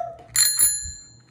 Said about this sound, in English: This is a pretty cool bell.